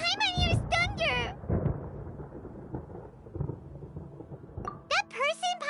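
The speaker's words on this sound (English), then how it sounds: "Paimon hears thunder!" Deep rolling thunder from a storm in the video game Genshin Impact rumbles for several seconds between bursts of animated character voices at the start and end.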